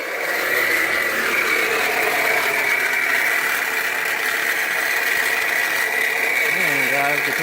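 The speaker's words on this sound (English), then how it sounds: "Man, guys, the compressor is on." A vehicle engine idles close by with the air-conditioning compressor engaged, a steady whirring hum with a high whine over it and a brief shifting tone near the end.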